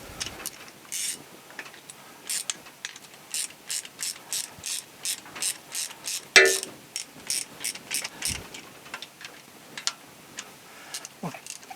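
A ratchet tightens the bolt heads on a steam engine's valve chest with a 9/16 socket, giving steady bursts of close, crisp clicking pawl strokes repeated in quick runs with no talking.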